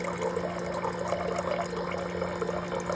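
A Lifewave X20 machine dispenses light-infused water into a glass, a steady close trickle and fill with a constant low electrical hum underneath.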